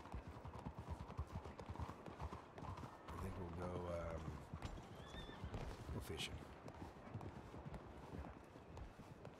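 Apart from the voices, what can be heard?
horse hooves and whinny in a video game (Red Dead Redemption 2 roleplay)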